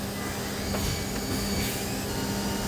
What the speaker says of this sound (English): I'm using a drill to drive the oil pump.